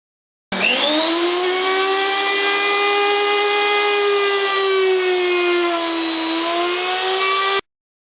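A router mills a plywood box surface flat, giving a loud, steady high-pitched whine with a faint dip in pitch near the end, running alone for about seven seconds.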